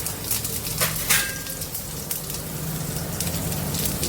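Mustard seeds, urad dal and cumin temper in hot oil, giving a steady, close crackling sizzle with sharp pops and spits scattered through it. It runs on its own, with no one talking over it.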